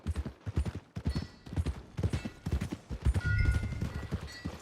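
Horse hooves walk in the video game Red Dead Redemption 2, a close, steady clip-clop rhythm of repeated strikes with faint game ambience behind it and no talk.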